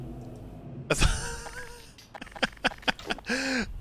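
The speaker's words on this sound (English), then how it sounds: "it was Gordon, like, cleaning the lens on this" Gordon Freeman wiping a lens in the Black Mesa video game: a short, rough, cough-like squeak followed by a series of quick rubbing bursts and a rising whine, moderately loud with no speech.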